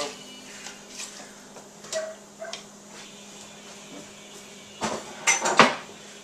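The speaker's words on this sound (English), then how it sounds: "Just going to go ahead and toss in the vegetables." Vegetables tossed into a stockpot for turkey giblet gravy, a scattering of light knocks and clatters against the pot, with a denser burst of thuds near the end, close and fairly quiet.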